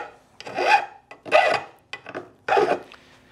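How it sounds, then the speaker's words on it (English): Hand file rasping along the freshly cut edges of metal gear racks from an inverted in-wall slide-out rebuild kit, three separate bursts of strokes, close and fairly loud, with no talking. "and we're gonna deburr these edges"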